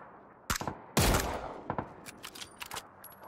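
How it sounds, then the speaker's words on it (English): Gunfire in PUBG aimed at an empty trike: bursts of shots crack out at about half a second and one second, then scattered single shots follow at a medium distance, with no talking. "They were shooting a trike with no one in it"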